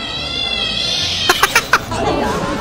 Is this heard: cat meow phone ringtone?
yes